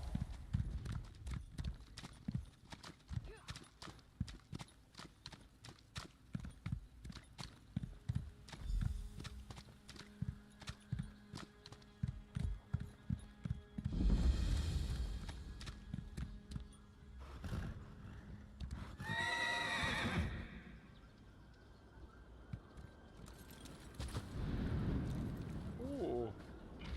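A horse in Elder Scrolls Online clip-clops in a quick, steady run of hoofbeats, then several whinnies break out later alongside a deep rumbling burst, while a person talks intermittently over the game sounds.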